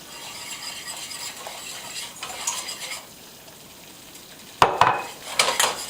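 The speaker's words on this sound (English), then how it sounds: "you have to constantly stir with the whisk" A whisk stirs a thick roux-like paste in a pan, making soft scraping and clinking against the metal over a faint background hiss, with sharper, louder scrapes near the end.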